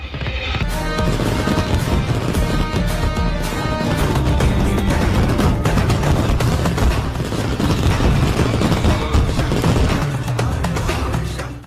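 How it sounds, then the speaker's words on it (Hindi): A continuous, dense barrage of crackling bangs and booms from wedding fireworks and firecrackers, loud and sustained, like many going off at once outdoors. "आप देखिए कैसी आतिशबाजी हुई है।"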